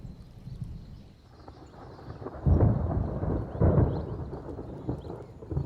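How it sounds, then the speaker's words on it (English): Thunder from an approaching summer storm in the African wild rolls in as two deep, booming swells over a low rumbling background, fairly distant and unhurried. "The approach of the first summer storms charges the air."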